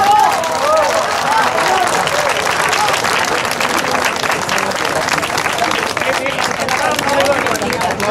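Dense, steady applause fills the hall for the whole stretch, a loud wash of many hands clapping together without let-up, with crowd murmur mixed underneath.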